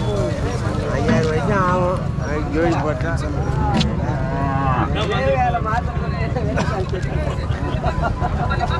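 A calf moos repeatedly among other cattle at a busy livestock market in Matrapalli, Tirupattur district, with steady crowd noise and people talking close by throughout.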